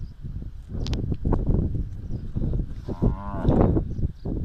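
Khillar cattle in a herd low and moo repeatedly at close range, several overlapping calls rising over a steady outdoor background.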